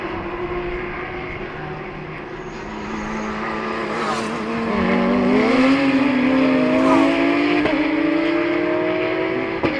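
BMW M2 and McLaren race cars scream along the Jarama circuit at a classic race meeting, several engines rising in pitch and growing louder as they approach and pass, with a sharp shift blip near the end.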